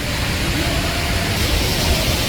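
Cheongnyong Falls, a 21 m waterfall, pours with a dense, unbroken roar of rushing water that is loud and close for a brief moment.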